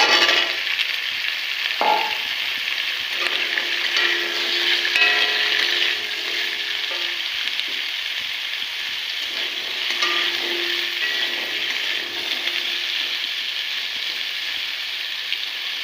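Cut potato pieces frying over green chillies in a pan, giving a loud, continuous, close sizzle with occasional light stirring knocks.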